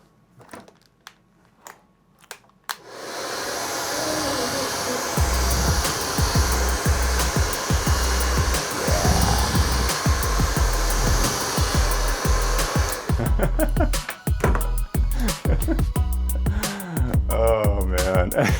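A hair dryer repaired with a 3D-printed part starts after some clicks and handling, then blows with a steady loud roar for several seconds before cutting out amid more knocks and handling.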